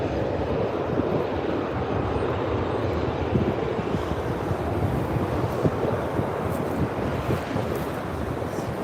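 A Hawaiian Airlines A330 lands on runway 24R at LAX, a steady broad roar of jet engines and rushing air mixed with wind buffeting the microphone, continuous and fairly loud.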